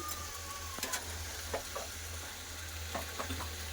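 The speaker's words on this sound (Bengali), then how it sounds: "সবজিটা ভালো করে কষে নিয়ে" Mixed vegetables sauté in a pan for lentil dal, a steady close sizzle with a few soft stirring scrapes and no talk.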